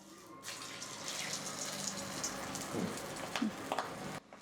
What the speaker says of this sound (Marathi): अगोदर तेलाला ताव आलाय पण एकच भजा सोडून पाहायचा आहे.